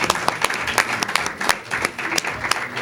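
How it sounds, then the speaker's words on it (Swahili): Applause from an audience at a school science prize ceremony in Zanzibar, as a winner comes forward to receive a laptop: steady, fairly close clapping with sharp individual claps standing out over about three seconds. "Jamani, makofi sana."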